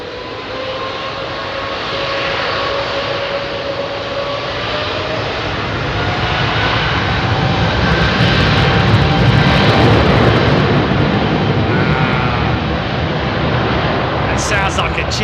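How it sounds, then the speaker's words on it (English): Airliner with GE90 jet engines on Heathrow runway 27R, a loud, sustained roar that swells and builds over several seconds, with people talking over it. "That sounds like a GE90,"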